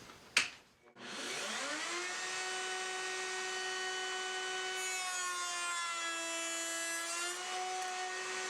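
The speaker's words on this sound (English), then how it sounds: "So let's give it a test" A power saw making a test cut on a wooden tenon in a setup block, a sharp knock followed by a loud steady whine that holds alone for several seconds.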